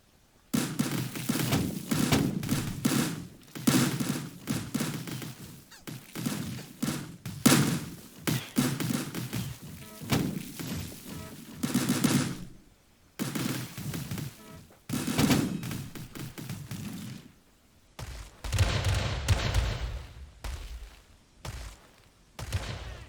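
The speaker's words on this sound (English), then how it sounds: "Break through with my artillery." Artillery firing in the strategy video game War Selection, loud repeated booming shots and thuds packed in dense, overlapping volleys across most of the stretch, with brief pauses between bursts.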